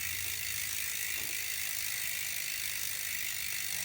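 A ratchet tool turns as the right pedal is threaded into a bicycle crank, giving quiet, faint mechanical clicking under a steady background hiss, with no voices.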